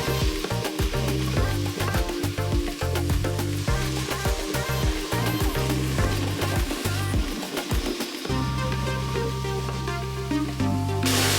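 Frozen chopped shallots fry in a pressure cooker, a loud, close, crackling sizzle that runs continuously, with clattering stirs and pan knocks breaking through.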